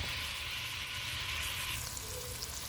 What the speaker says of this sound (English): giving them a nice little brown sear on both sides